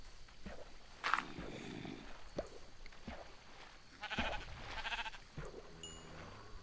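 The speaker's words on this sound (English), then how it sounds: "There's sheep there." Sheep bleating in the video game Minecraft, a few short bleats close by with quiet footsteps and game sounds in between, no talking.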